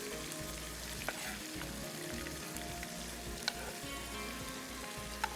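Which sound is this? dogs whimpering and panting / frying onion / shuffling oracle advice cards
frying onion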